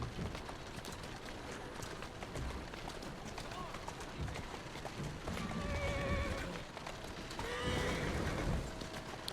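A horse whinnies twice amid a steady din of outdoor ambience in Assassin's Creed, with hooves clopping and a low rumble throughout.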